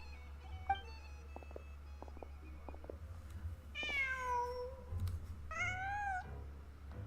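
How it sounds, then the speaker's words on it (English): Cat meowing in the video game Genshin Impact: two clear, drawn-out meows in the latter half over a low hum, preceded by faint clicks and soft tones. "Just a cat."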